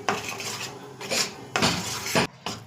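Ghee-roasted wheat flour halwa being stirred in a pan: a metal spoon scrapes and clatters against the pan in several loud bursts with short pauses between them, and no one talks.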